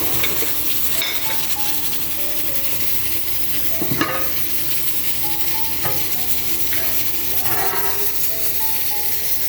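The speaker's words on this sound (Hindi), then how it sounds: "मैं मसाले को उसको भूनती हूँ, चिकन के मसाले को" Chicken masala sizzles and fries in a pan with a steady hiss and occasional scrapes and clinks of a stirring utensil, with a faint melodic tune running underneath.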